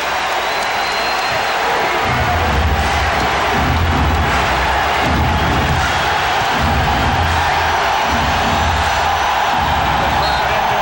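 A packed basketball arena crowd roars during a 1993 NBA playoff Game 7 between the Rockets and Sonics, a loud continuous din with swelling cheers, whoops and pulsing low thumps from stomping or the ball.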